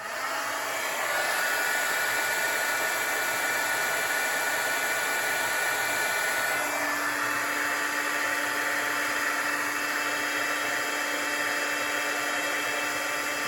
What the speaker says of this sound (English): And my heat gun, got a little more heating to do.